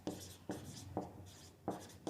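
Hand-writing an equation for a class 10 maths lesson, a series of close scratchy pen or chalk strokes in short bursts with brief pauses between them, with no speech.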